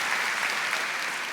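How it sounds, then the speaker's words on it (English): Dense, sustained applause from a large audience at a school district opening event fills the space evenly, with no single clap standing out. "Give yourselves a round of applause."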